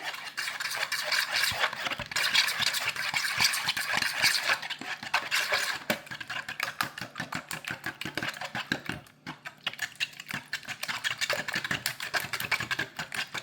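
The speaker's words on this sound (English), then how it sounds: "now we're going to go ahead and show you as we're stirring the Texas Bricken" Rapid, continuous clicking and scraping as scrambled eggs with cheese and Texas Bricken seasoning are stirred in a pan, a steady busy rattle under a hissing background, with no talking.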